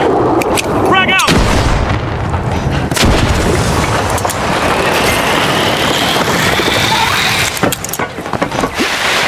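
Frag grenade blasts mixed with heavy gunfire from a destructible-map co-op shooter game on PS5, a dense, loud, continuous barrage of booms and shots with a brief voice heard early on.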